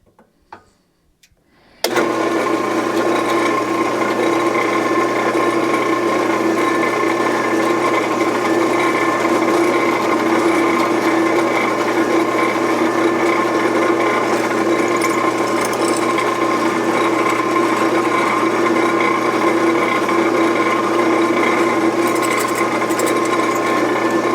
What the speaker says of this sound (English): So now we got 2 holes drilled